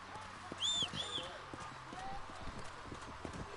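A horse's hooves clopping in Red Dead Redemption with a short whinny near the start, set among game dialogue and ambient sound.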